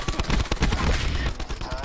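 Gunfire in the shooter Black Ops 4, with rapid overlapping bursts of shots from several weapons, loud and close, continuing through the whole brief moment.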